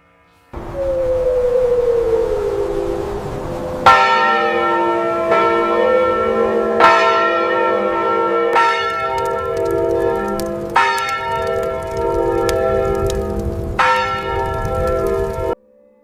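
Church bells ring out in a slow sequence of loud, resonant strikes, each one ringing on and overlapping the previous toll, with a low hum underneath.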